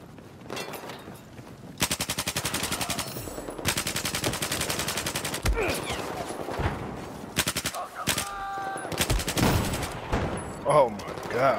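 Gunfire in Battlefield 4 multiplayer, dense automatic bursts in long rapid strings with brief pauses, loud and close, a player talking over parts of it.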